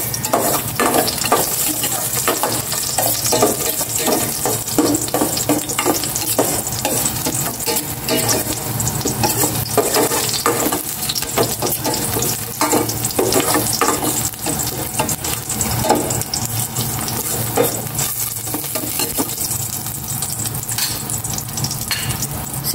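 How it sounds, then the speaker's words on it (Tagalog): Garlic sautéing in a pan while vegetables are being cooked: a steady, close frying sizzle with occasional stirring scrapes, continuous throughout and with no talk. "Magisa na ako ng bawang."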